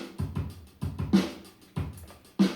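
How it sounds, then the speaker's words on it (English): A straight funky sixteenth-note drum loop from the Loopz app plays at low level, with kick thumps and snare hits recurring in a steady repeating pattern and busy hi-hat ticks filling the gaps. "one of the very first rhythms on it is called the Funky 16th Straight. It sounds like this."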